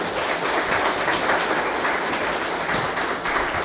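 Audience at a tech panel discussion applauding the panelists, a dense, continuous wash of many hands clapping at steady loudness.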